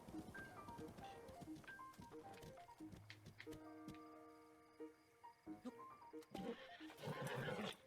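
A horse in Zelda: Breath of the Wild, an ornery unbroken one, gives several high whinnies and snorts over faint clip-clopping hooves and ticking sounds, all fairly quiet and with no talk.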